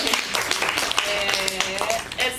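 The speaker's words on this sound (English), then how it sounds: "Round of applause." Audience clapping at a Bee and Puppycat convention panel, scattered claps mixed with voices and chatter throughout a short stretch.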